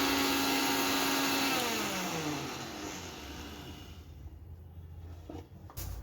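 An electric mixer grinder spins at high speed while it grinds rice with dried herbs such as rose petals and amla into a fine bathing powder. The loud motor whine holds steady, then winds down in a falling pitch, and a few clunks follow as it stops.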